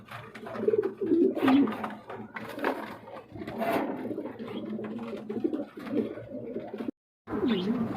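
Pigeons cooing at a pigeon market or loft, repeated low throaty coos and burbles close by, several birds overlapping in bursts with a short gap near the end.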